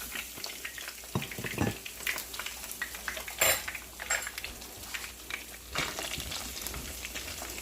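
Seasoned, cut potato fries tumble into a hot greased frying pan, setting off a steady sizzle with clattering pan and utensil knocks, nearby and fairly quiet.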